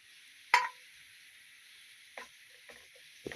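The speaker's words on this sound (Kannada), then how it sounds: "ಇದನ್ನು ಇದಕ್ಕೆ ಒಳ್ಳೆ ಫ್ರೈ ಮಾಡಬೇಕು. ಹಸಿ ಸ್ಮೆಲ್ಲೆಲ್ಲ ಹೋಗೋ ತನಕ ಫ್ರೈ ಮಾಡಬೇಕು." Ground masala fries with dry prawns for Mangalore-style chutney over a medium gas flame, giving a faint, steady sizzle broken by a few sharp spoon-stirring scrapes.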